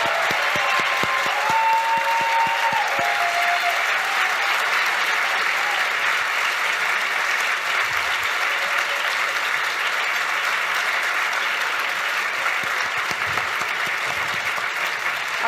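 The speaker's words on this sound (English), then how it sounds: "can we just have a round of applause for all our debaters today?" An audience applauds debaters at a formal debate, a steady, full round of clapping that carries on loudly for the whole stretch, with a few faint voices mixed in early.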